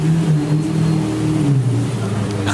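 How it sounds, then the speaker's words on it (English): Loud Lamborghini engine revving while driving past a Porsche 911, a steady powerful drone with shifting pitch, close and continuous throughout, no talk over it. "That's a very loud Lamborghini."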